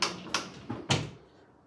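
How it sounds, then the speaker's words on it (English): A bathroom sliding door in a small backyard tiny house rolls open with a few soft knocks and a rumbling slide, close and moderately quiet, fading out at the end. "we will move our sliding door"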